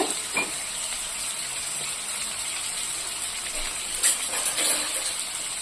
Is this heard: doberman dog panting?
no